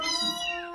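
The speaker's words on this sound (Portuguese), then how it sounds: "Tem um gato aqui." A cat meows once, a short close-up call with clear rising and falling harmonics, heard alone without talk at a lively family birthday gathering.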